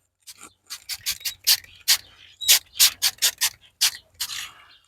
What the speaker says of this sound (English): I'm going to come in with the brush and rub that in.